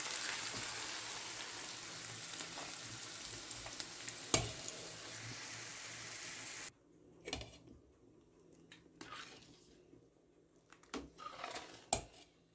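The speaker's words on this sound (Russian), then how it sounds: "Лук с морковью зажарились. И добавляю в кастрюлю." Fried onion and carrot tipped into a soup pot, with loud steady sizzling at first, then a sudden drop to quieter scraping and clinks of a utensil against the pot.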